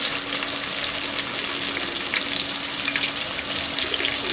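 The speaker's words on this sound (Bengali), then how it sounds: "ওই তেলের মধ্যে দিয়ে দেব বেটে রাখা মশলাটা" Ground spice paste hits hot oil and sizzles loudly and steadily throughout, a dense crackling fry close by with no talking.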